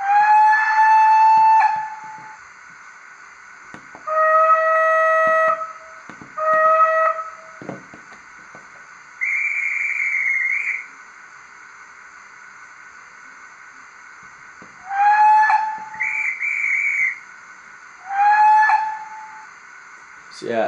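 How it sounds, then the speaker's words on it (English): Steam-era whistles from a Bachmann 94XX model tank locomotive's sound system, a series of bright multi-tone blasts, some short and some held, repeated several times with brief gaps over a steady running hum. "The loco has a variety of functions, of course, including a series of whistles."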